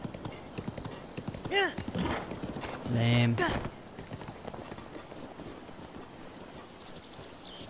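Hooves clip-clop steadily from a horse in a video game, with a loud neigh or whinny bursting out midway, all under ongoing conversational talk.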